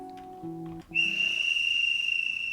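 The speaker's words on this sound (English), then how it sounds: "we heard the frantic tweeting of a whistle from some distance away" A whistle blown from some distance, starting after a short stretch of low tonal sound and then holding a steady shrill note, sounding sustained and urgent rather than close.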